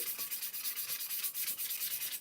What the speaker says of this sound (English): I'm just kind of rough sanding.